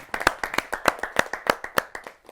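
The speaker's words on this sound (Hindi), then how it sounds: "आइए जोरदार तालियों से हम स्वागत करते हैं हमारे सुभाष प्रतापगढ़ी।" At a Hindi poetry gathering, audience hands beat out a crisp, evenly spaced clapping rhythm, about fourteen distinct claps in quick succession, clear and fairly near with no talk over them.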